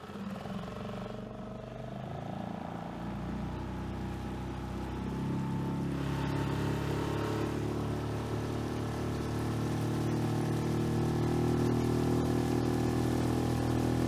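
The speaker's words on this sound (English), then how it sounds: "now we're just running the boat motor" A 6 HP outboard motor on a Crescent Cres-Craft micro skiff drones continuously, its pitch climbing as it revs up, with wind and water noise mixed in.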